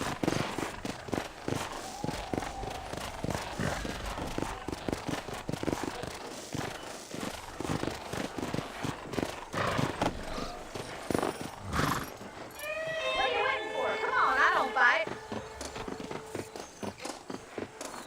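Horse hooves clip-clopping in the Western video game Red Dead Redemption, a steady walking rhythm of dry clicks running through the whole stretch, with game sounds and a brief melodic flourish near the end.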